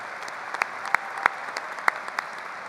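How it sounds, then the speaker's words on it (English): Audience applauding at a high school commencement ceremony, with a thin scattering of claps and a few louder individual claps standing out over a soft, even background. "Please give them a round of applause."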